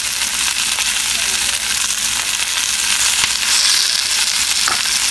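Potatoes and onions frying in a cast iron sauteuse pan give off a loud, dense, continuous sizzle with faint crackles and stirring scrapes mixed in.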